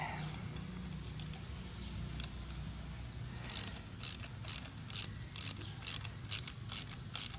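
A ratchet fitted with a Torx bit works on an Aeromotive fuel pressure regulator, its close, crisp clicking coming in a regular burst of about ten strokes after a quieter stretch of faint handling noise.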